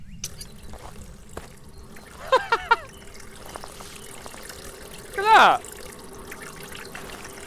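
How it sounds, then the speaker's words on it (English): In the video game Phasmophobia, water trickles from a hose pipe as a steady, low, hissing stream beneath a person talking excitedly in short bursts. "Wait, there's a hose pipe thing here. Wait, can it turn the water on?"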